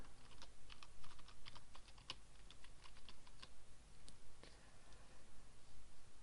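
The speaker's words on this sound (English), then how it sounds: "So type in our subdomain, let's call this shopping cart." Quiet, close keystrokes on a computer keyboard tap out a subdomain name in irregular quick runs with short pauses, and no one speaks.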